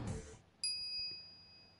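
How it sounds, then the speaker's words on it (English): Microwave oven chime in the video game Steins;Gate Elite: after a brief soft rumble and a pause, a single bright bell-like ding rings out and lingers with a long clean decay. "After 120 seconds pass, the microwave chimes."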